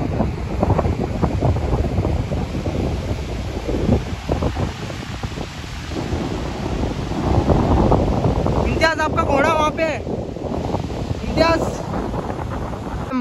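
Sea waves and strong wind at Marina Beach in Chennai, buffeting roughly against the microphone with surf rolling beneath, while someone talks over it and birds or distant shouts briefly rise near the end.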